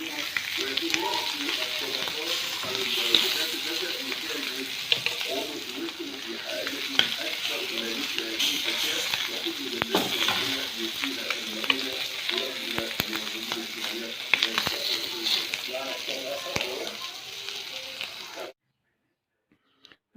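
Seasoned meat, rubbed with salt and spices, sears and sizzles steadily in a hot frying pan, with stirring and turning noises over a dense crackle that runs close and loud for most of the clip before stopping abruptly.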